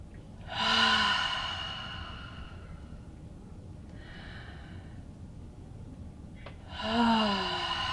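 Two sighing exhalations during a guided breathing exercise, voiced and audible through the mouth, one near the start and one near the end, with quiet room tone in between.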